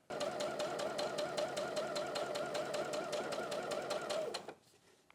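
A sewing machine stitches two fabric layers together while gathering them, a close, fast, even run of rapid clicks that continues for about four seconds and then stops abruptly.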